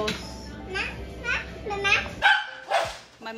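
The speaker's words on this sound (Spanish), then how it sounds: "Perritos." Small dogs yip and bark repeatedly at a family birthday cookout while children play and chatter close by.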